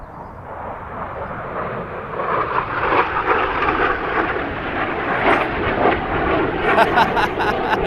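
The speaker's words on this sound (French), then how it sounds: "il y a un avion de chasse qui passe juste derrière, c'est incroyable" A fighter jet passes just behind a spot in Lot-et-Garonne, France. Its engine roar swells from a steady rumble into a loud, sustained rush that holds to the end.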